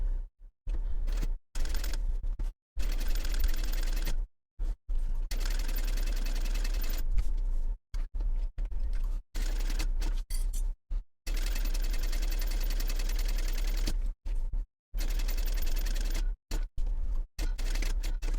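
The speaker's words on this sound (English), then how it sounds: "And now I want to sew the whole box, top stitch it all the way around." A sewing machine top stitches all the way around a fabric cube box at a long stitch length, running in steady bursts separated by brief pauses, close and fairly loud, with no talking.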